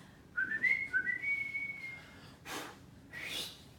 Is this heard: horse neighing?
no